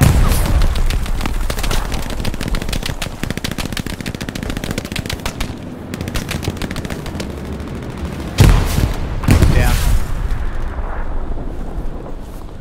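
A tank fires during a Hell Let Loose battle amid dense, loud, rapid machine-gun bursts and heavy booming blasts that continue nonstop, with a sharp louder impact near the end and no clear talking.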